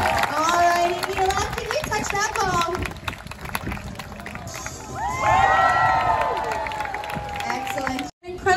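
Crowd at the finale of a sea lion show at the Long Island Aquarium cheers and shouts, children's voices rising over steady clapping, with a swell of cheering midway and an announcer talking throughout.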